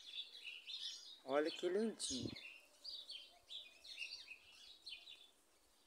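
Small birds singing in a jabuticaba tree, a scatter of thin high chirps and tweets running steadily through the background while someone talks close by.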